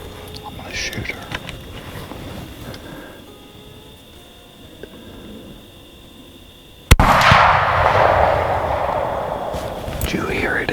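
A single sharp rifle shot cracks out during a deer hunt, loud and sudden after quiet whispering, followed by a lingering rumbling echo across the open land.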